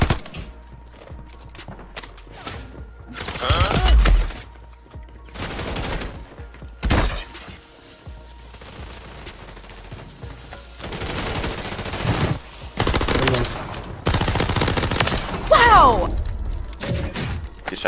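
Bursts of gunfire in Warzone 3 come in several loud clusters, some rapid automatic volleys and sharper single cracks, separated by quieter stretches with in-game sounds and players talking.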